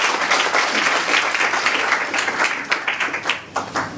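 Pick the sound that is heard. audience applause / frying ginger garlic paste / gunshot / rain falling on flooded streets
audience applause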